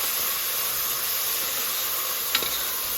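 Fenugreek leaves and mint frying in a pan give off a steady, loud sizzling hiss that stays even throughout, with one faint scrape or clink near the end.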